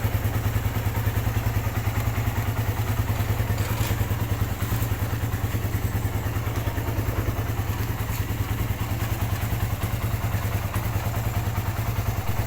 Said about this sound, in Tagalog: legit 1000 RPM idle niya at talagang steady lang siya sa 1k RPM